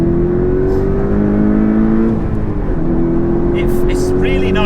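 A Porsche 718 Cayman T revs freely in Sport Plus, its engine note climbing and holding loud and close from inside the cabin, with a brief dip as the gear changes.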